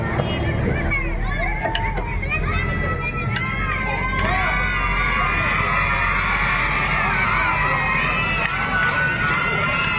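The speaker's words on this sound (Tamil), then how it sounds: "உங்களுக்கு ஆரவாரம் அதிகமா இருக்கு" At a silambam stick-fighting performance in Kamuthi, a crowd keeps up loud, continuous shouting and cheering with excited high voices rising and falling, along with general chatter throughout.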